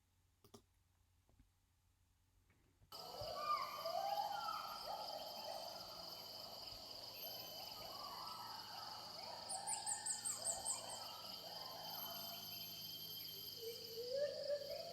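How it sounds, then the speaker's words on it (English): A wildlife field recording opens near-silent with a few faint clicks, then crickets and cicadas set up a steady high drone while rising, whooping calls of an agile gibbon and other chirps sound from moderate distance. "So they're listening for crickets, cicadas, an agile gibbon, and small vehicle, different color dots."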